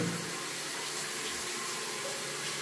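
A running shower pours steadily into a bucket, a constant close hiss of falling water with no talking.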